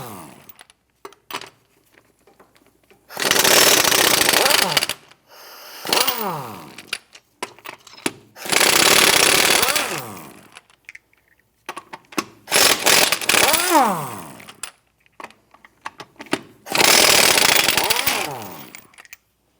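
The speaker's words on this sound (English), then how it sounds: "Using a 21mm socket, let's go ahead, loosen and remove these lug nuts." Impact wrench with a 21mm socket loosening lug nuts on a 2008-2013 Nissan Rogue, loud close bursts of hammering rattle, five separate runs of about two seconds each with pauses and small clanks between.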